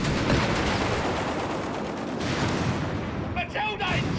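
Gunfire and artillery from a Company of Heroes 3 battle, a continuous loud din of shots and blasts with shouted voices mixed in.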